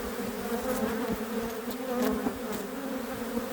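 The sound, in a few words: honey bees buzzing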